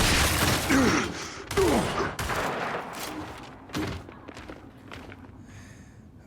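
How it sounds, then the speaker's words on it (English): Shotgun blasts and heavy gunfire in the Gears 5 multiplayer game, several loud booming shots in quick succession with thuds and mechanical clanks between them, no talking. "There's that shotgun again."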